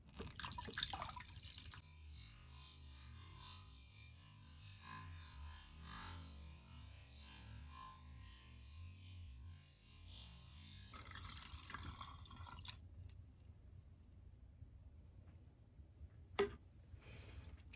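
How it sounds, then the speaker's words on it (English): Cochineal dye liquid drains through a filter into a container, a soft continuous trickle with scattered drips that thins out after about eleven seconds, leaving sparse drops and a brief clink, no voices. "We are now going to filter the cochineal."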